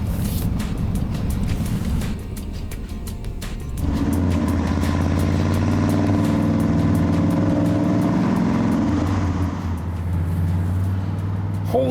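A 1997 Chevrolet OBS pickup with a swapped T-56 six-speed manual idles roughly and unevenly up close, its low rumble surging and dipping throughout with occasional clicks.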